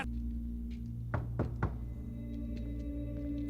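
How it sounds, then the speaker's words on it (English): Three quick knocks on a door, heard as dull thumps at a moderate distance over a steady background hum, with no talking. "Knocked on the door and walked away"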